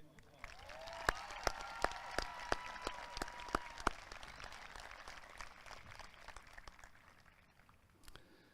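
Scattered applause greets an academic scholar award recipient at a high school graduation ceremony, a few sharp individual claps standing out over a soft, distant crowd patter that fades after a few seconds.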